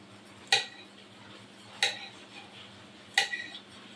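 A knife chops French beans on a cutting board in a home kitchen, three separate crisp taps spaced evenly about a second apart, close and clear with no talking.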